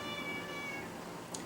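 A domestic cat gives one short meow, close and fairly clear, with no talking.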